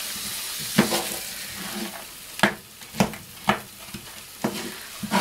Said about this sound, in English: Stir in lamb well, cook until.